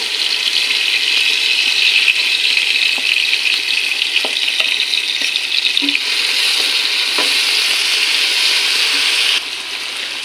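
Ground spice paste fries with potatoes in a pan for a country chicken, duck egg and whole garlic curry, a steady close sizzle with occasional spoon clinks and scrapes, dropping slightly in level just before the end.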